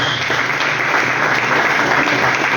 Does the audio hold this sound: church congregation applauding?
yes